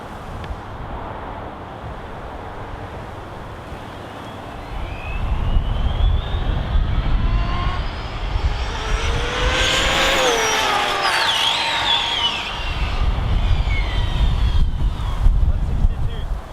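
An ARRMA Limitless RC speed car, built for 104 mph plus, screams past at high speed with a rising and falling whine over strong wind rumble, loudest mid-pass before fading.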